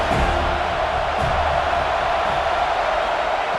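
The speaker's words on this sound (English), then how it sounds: "this home crowd is fired up and ready to make a difference today" A home stadium crowd in EA College Football 26 roars steadily, a dense, loud wall of cheering that holds without break, with a commentator's voice over it.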